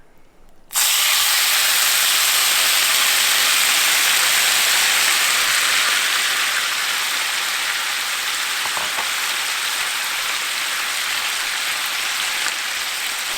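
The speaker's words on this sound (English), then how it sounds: "We're gonna add our pork and we're gonna cook until we achieve our desired crispiness." Pork hitting a hot pan and frying toward crispiness for Korean tacos, a sudden loud burst of hissing sizzle that holds steady and dense, close and alone.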